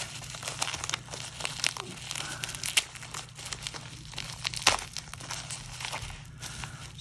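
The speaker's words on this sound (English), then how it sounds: "Just a regular small bubble envelope. See if we can find the tape on here." A small bubble mailer envelope being handled and opened, with close crinkling plastic and paper, scattered tearing and crumpling noises in irregular bursts, no voices.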